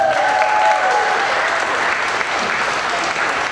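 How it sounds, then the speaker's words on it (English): A crowd at a car giveaway event applauds a guest, steady clapping with a brief whistle near the start, holding at an even level throughout. "Let's give him a big round of applause, Mr. Mark Reiner."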